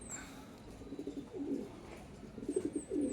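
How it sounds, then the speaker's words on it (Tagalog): Pigeons arriving at the loft coo softly in low, bubbling bursts, with faint chirps of other birds in the distance. "Ngayon palang nagdadatingan ng ating mga ibon"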